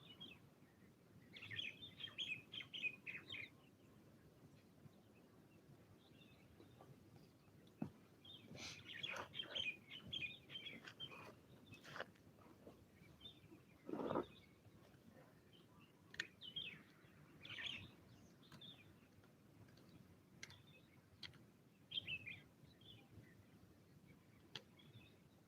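Faint outdoor birdsong at sunrise: scattered chirps and short trilling calls come in irregular bursts over a quiet background, with no talking.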